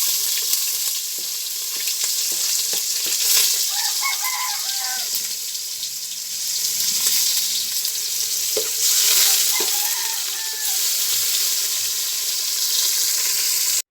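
Pork sautéing in a pan with garlic, ginger, tomato and onion gives a steady, bright sizzle with occasional stirring scrapes, while chickens cluck faintly in the background of a small chicken farm.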